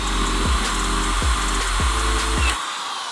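A power drill with a 1/4 inch bit bores into wood in several short whirring bursts, each ending with a sharp drop in pitch, close and loud with a steady motor hum beneath.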